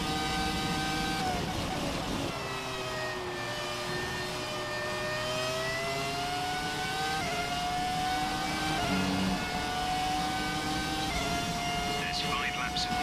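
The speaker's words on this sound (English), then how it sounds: "You can actually identify the other cars by their engine sound." F1 2017 race car engines, including the Ferrari F2004, whine and rev continuously, pitch rising and shifting as cars accelerate, with a voice talking over the steady engine drone.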